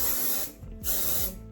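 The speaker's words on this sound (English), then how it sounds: "So I'm just going to use the spray and I'm going to spray it inside." An aerosol can sprays inside a wig cap during a wig installation, two close hissing bursts separated by a brief pause.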